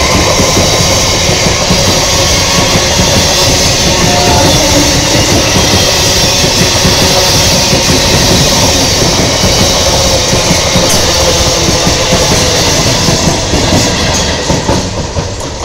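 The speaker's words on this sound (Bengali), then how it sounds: "34831 down Sealdah diamond Harbour local." A Down Sealdah–Diamond Harbour local train passes close by near Sonarpur railway station, a loud sustained rumble with rapid clickety-clack of wheels over rail joints, fading slightly at the end.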